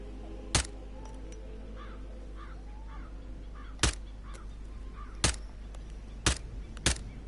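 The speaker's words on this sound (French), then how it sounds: "J'arrive pas à toucher un corbeau." Crows caw repeatedly in the video game Hitman 3, a few loud caws scattered over a quiet ambient backdrop with faint distant bird calls.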